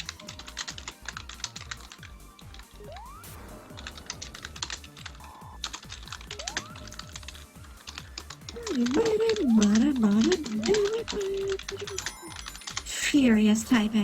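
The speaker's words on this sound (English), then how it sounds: "Furious typing." Rapid, furious typing on a computer keyboard, a dense stream of close key clatter running throughout while game music and sound effects play underneath.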